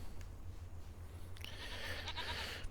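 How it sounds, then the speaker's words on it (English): Goats bleating in a farm pen holding about 25 animals, a faint, distant chorus of calls over a steady low hum, rising a little louder in the second half. "So we've got 25 goats in there at current."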